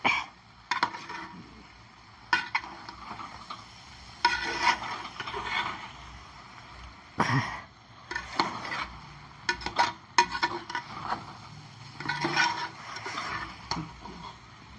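Meal maker (soya chunk) dum biryani is stirred and mixed in a pot, with repeated close scraping and clattering strokes in irregular bursts and short pauses between them. No voices are heard.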